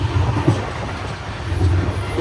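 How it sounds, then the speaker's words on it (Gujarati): Inside a moving non-AC train coach, a steady low rumble and rattle of the carriage rolls on continuously. "મિત્રો ચાલુ ટ્રેનની સફર."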